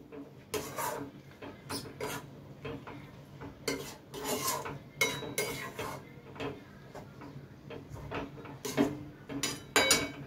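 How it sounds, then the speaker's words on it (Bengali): Spoon scraping and clattering against a pan while mango chutney with jaggery is stirred, with irregular bursts of scraping and knocks at close range and quiet gaps between them. "গুড়টা দিয়ে খুব ভালো করে মিলিয়ে নেব"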